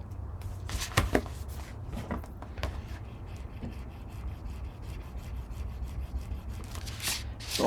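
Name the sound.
burnishing paper with a tool for a flip book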